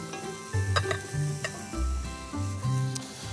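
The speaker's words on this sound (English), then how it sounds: "Now, we mix the pumpkin with the potato." Pumpkin and potato are stirred together for vegetarian gnocchi dough, giving a steady wet mixing and scraping sound with light clinks of utensils against the bowl, continuous and close, over a low background.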